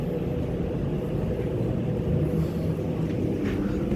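A Cambridge heating unit's blower runs without stopping, a steady close low rumbling whoosh of moving air with no breaks.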